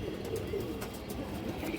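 Low, soft cooing from a male Palla line pigeon, a steady murmur of repeated coos close by with no voices over it.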